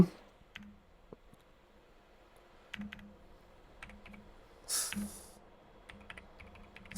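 Steady typing on a computer keyboard, close and fairly quiet, with irregular clusters of key clicks and a brief louder clack near the end.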